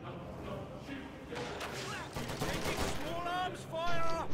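Gunfire rattles in a Reign 2 strategy battle as troops fire on assault engineers, a dense burst of shots and thuds building mid-clip under game speech and effects, with whistling tones near the end.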